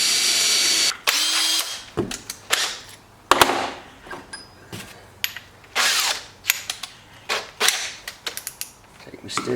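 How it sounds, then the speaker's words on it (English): A power drill with a step drill bit whirs in short bursts on a forged SR20 S14 drift car, starting and stopping repeatedly with creaking, grinding bites as it works into soft material up close. "so I got a drill. Might drill out a small hole to begin with."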